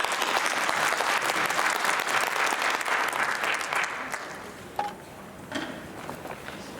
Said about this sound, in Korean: 우리 강사 목사님 나오실 때 뜨거운 마음으로 박수 한번 하고 환영하겠습니다.